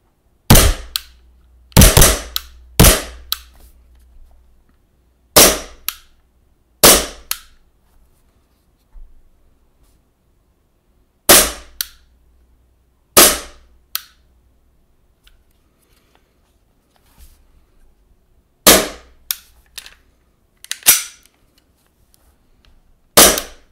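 An HK/WE Glock 19 Gen4 gas blowback airsoft pistol fitted with an RMR kit fires about twenty sharp, loud snapping shots, some in quick pairs and others spaced apart, with near silence between them.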